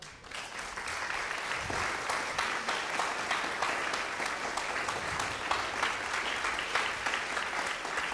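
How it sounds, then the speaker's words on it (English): Sustained applause from a concert audience after a contemporary ensemble performance, a steady mid-level roll of many hands with distinct sharper claps popping through, continuing evenly for about eight seconds. "Another round of applause for Philip"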